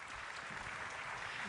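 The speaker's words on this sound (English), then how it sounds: "Clearly, I'm going to clap to that." Audience clapping at the close of a diplomatic forum session in Doha, a continuous soft wash of applause heard from a distance.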